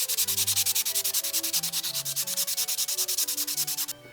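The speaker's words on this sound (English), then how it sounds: "I'm going to sand these while I think about it." Wooden game pieces for Kōnane, the Hawaiian checkers game, being sanded by hand in fast, even back-and-forth rubbing strokes, close and rhythmic, alone with no voices.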